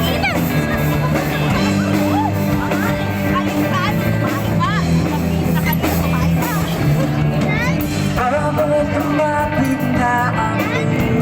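Dense crowd noise at an outdoor Independence Day celebration in Madrid, Spain: continuous loud babble with shouts, cheers and overlapping voices close by, and music underneath throughout.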